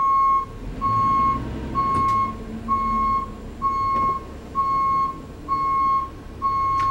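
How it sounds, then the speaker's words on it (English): A Ford Transit fitted with a drive-by-wire kit backs up during a reverse J-turn, its reversing alarm sounding eight steady, evenly spaced beeps over a low engine rumble, with no talk. "We will now do a reverse J-turn."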